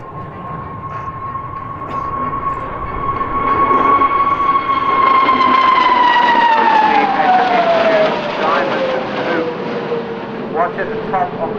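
The Fursan Al Emarat aerobatic jet display team passes at the Farnborough Airshow, a loud whining jet tone sliding slowly downward in pitch as the aircraft sweep by, under a continuous crowd and engine roar.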